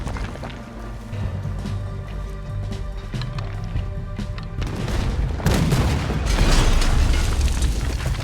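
Heavy booms and bursts of cannon fire during a naval battle in Red Dead Redemption 2, over a busy layer of game music and battle noise, growing louder and denser toward the end.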